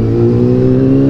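A car engine drones steadily at close range with strong low harmonic hum, heard from inside or near a vehicle driving through rain, with no speech.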